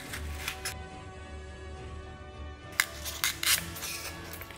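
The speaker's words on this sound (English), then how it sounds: "Now I just have to cut it out." A circle is cut from a sheet of XPS foam along a template for a miniature forge build. Quiet, scratchy cutting strokes give way to a few sharper scrapes and snaps near the end.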